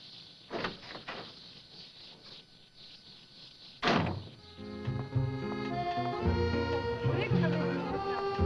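An apartment door swings shut with a single solid thud, followed by music swelling up and a faint voice earlier in the scene.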